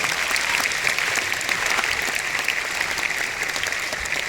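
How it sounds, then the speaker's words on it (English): An audience at an Amway recognition evening applauds, a sustained, dense roar of many hands clapping at an even, fairly loud level with no gaps. "Please give Amway a big round of applause."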